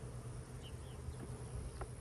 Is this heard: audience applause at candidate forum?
no